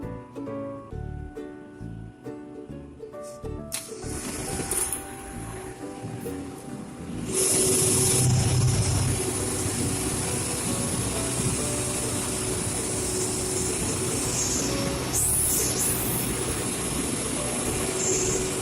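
A Jenbacher 320 gas engine generator set running in a power plant: a dense, steady mechanical roar and hum that grows louder as it is approached and then holds constant, with faint high tonal whines.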